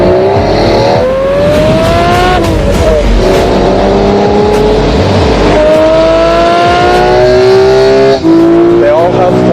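Racing cars rev hard with rising and falling engine pitch, shifting gears through long, continuous, loud runs, while tires squeal now and then and a commentator talks over it throughout.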